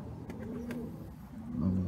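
Soft, low pigeon coos repeat a few times nearby, quiet and rounded against a faint background hum, from a pigeon with a watery, closing eye.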